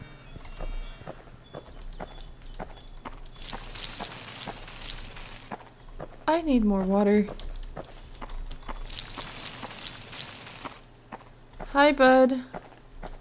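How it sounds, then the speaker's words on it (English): Footsteps of a character in the horror video game Pumpkin Panic, soft repeated steps under game ambience, with bursts of noise, two rising tonal sound effects and someone talking. "Oh, that's the sound of my feet."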